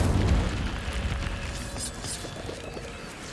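The Incendio fire spell cast in the Hogwarts Legacy video game gives a sustained roaring, crackling whoosh of flame. It starts with a heavy low burst and holds steady and loud throughout, with no voices.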